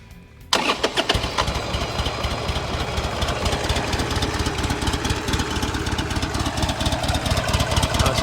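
A Buell XB12X motorcycle starts with a brief crank, then settles into a loud, close, lumpy V-twin idle with a steady uneven pulsing beat and no talk over it.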